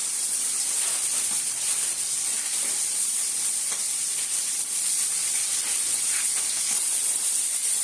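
Pieces of rohu fish frying in a pan for a tomato fish curry, a constant bright sizzle and hiss with faint crackles, steady and close without any talking.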